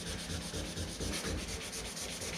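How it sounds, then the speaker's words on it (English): Sandpaper is rubbed by hand over a low spot on a car body panel in steady back-and-forth strokes, a continuous close scratchy rasp with no talking. "we want that sanded, we want that little bit of a tooth in there for it"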